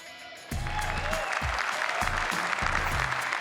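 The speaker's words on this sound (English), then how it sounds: "Why are you applauding Internet Explorer?" A crowd at the E3 2012 press conference bursts into applause partway through, a dense wash of clapping that continues steadily to the end, with some low murmuring underneath.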